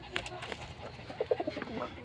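A pet bird coos softly nearby at nightfall, a few short low coos clustered in the middle of a brief moment, with faint surrounding noise.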